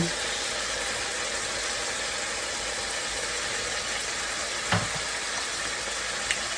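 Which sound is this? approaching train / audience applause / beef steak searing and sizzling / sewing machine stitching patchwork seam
beef steak searing and sizzling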